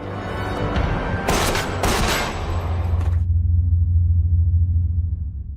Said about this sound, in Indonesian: dan orang yang menembak Paijo adalah Fukami